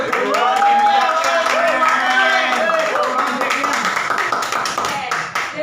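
Students clap in a microteaching classroom session, a brief burst of applause overlapped by a voice talking over it, fading slightly toward the end.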